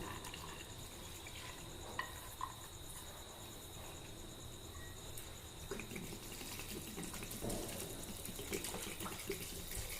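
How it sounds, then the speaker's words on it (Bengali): Water is poured into a pressure cooker holding 250 g of washed, drained chana dal. It makes a faint, steady splashing over a quiet kitchen background that lasts the whole stretch. "দিয়ে দিচ্ছি পরিমাণ মতো জল"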